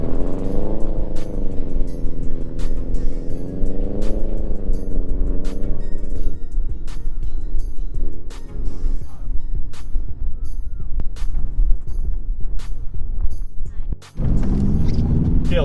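A car on studded winter tires slides and spins on a frozen lake, its engine droning and shifting pitch while the tires tick and crunch over the ice, with brief talk inside the car.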